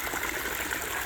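Small pondless waterfall spilling into a 14-foot stream, a continuous close gushing and splashing of water, steady and unbroken.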